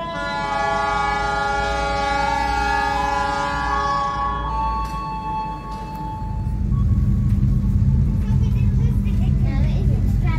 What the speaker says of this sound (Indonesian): kereta api Argo Wilis diberangkatkan dari stasiun Kutoarjo